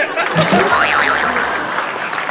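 An audience claps steadily at a Hindi comedic poetry show, a loud, dense wash of applause with a few scattered laughs and faint voices mixed in, continuing evenly throughout.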